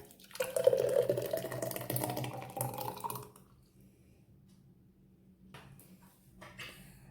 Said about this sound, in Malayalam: ഈ ജ്യൂസ് നമുക്കൊരു ജാറിലേക്ക് ഒഴിക്കാം